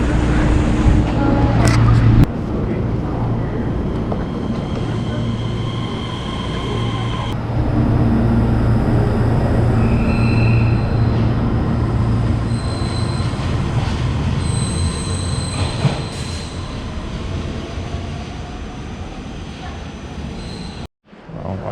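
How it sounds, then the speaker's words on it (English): An express train in Taiwan rolls along the rails as heard from inside, with a steady loud rumble, faint wheel squeals and occasional clatter over about twenty seconds. "This is Taiwan Express train."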